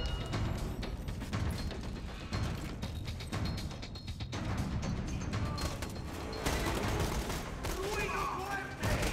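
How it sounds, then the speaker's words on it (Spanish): Gunfire and grenade blasts in a PS3 co-op match of Borderlands 2: dense, crackling volleys with occasional heavier crashes, fairly close and continuous, under someone talking. "Tiraré granadas ahí aleatorias."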